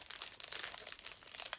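Thin plastic bag holding small makeup brushes crinkles and rustles continuously at close range for under two seconds, with no talking.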